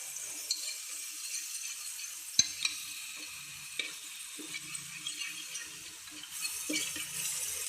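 Onion frying in a pan of spiced oil for tempering dal, with cinnamon, cloves, curry leaves and ginger-garlic paste already added; a steady soft sizzle runs throughout, broken by a few stirring scrapes and light utensil clinks.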